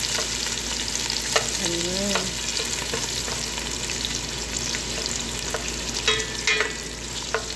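Food for maqluba is stirred in a hot pan, with a steady oily sizzle and scraping stirs throughout, close and clear. A voice briefly speaks.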